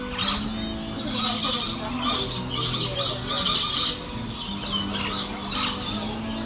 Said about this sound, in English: These beautiful birds are called scaly-breasted lorikeets, and as you could tell from a little clip before, they're very noisy